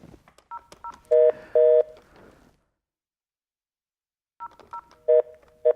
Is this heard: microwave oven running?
no